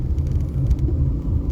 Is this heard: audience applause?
no